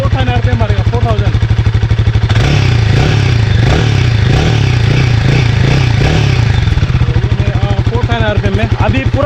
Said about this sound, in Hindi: पूरा RPM फुल मारेगा, तो फुल RPM में साउंड सुन लो कैसा होता है